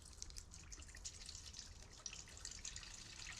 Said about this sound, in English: We'll just pour it in there. We don't want to waste none of that water.